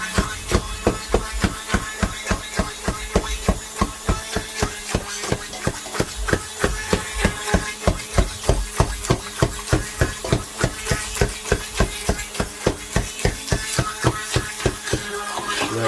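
Knife chopping fruit on a board for homemade HP sauce, a steady fast rhythm of sharp, close thuds repeating throughout without pause.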